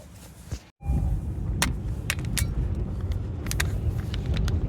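Steady low road rumble inside a moving car on a gray day, continuous and even with a few light clicks and a brief dropout near the start, no one talking.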